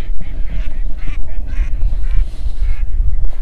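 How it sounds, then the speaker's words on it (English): Several geese honking and quacking outdoors, repeated harsh calls over a rumbling, windy background. "There's a couple of geese down here"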